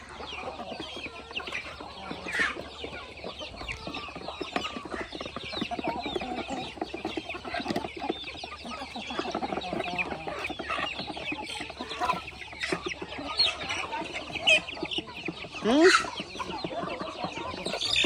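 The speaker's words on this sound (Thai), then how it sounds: "ไก่หลายอยู่ค่ะ" Free-range village chickens cluck steadily at close range, several birds overlapping in a busy, continuous chatter with occasional louder squawks.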